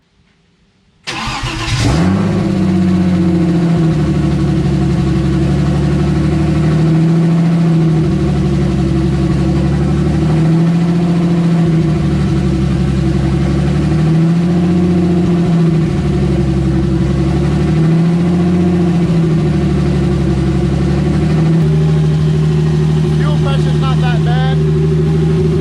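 Turbocharged BMW M52 inline-six in an E30 catches on its first start and settles into a loud, close idle that surges and dips in a slow, regular hunting rhythm.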